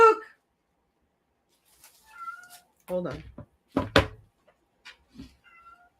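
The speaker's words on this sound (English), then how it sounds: "You hear her meowing?" A pet cat named Lila meows indoors a few times, short and fairly close, alongside a couple of soft knocks and a person speaking briefly.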